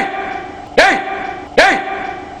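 At a press meet, a man imitates a dog with his voice, giving two loud, close barks about a second apart, each a short sharp yelp that rises and then trails off.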